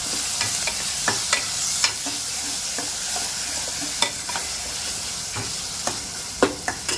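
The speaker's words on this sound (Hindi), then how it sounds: "यहाँ पे देखें बहुत ही अच्छे से इसकी भुनाई हो रही है।" Goat kidney masala frying and roasting in a pan, a steady close sizzle broken by repeated sharp clicks and scrapes of a spoon stirring through it.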